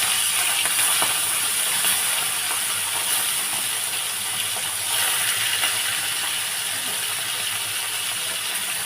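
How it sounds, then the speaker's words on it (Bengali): Sitahar sea fish fry in hot oil in a wok, producing a loud, even, close hiss that runs unbroken throughout. "এবারে মাছগুলো ভেজে নেব।"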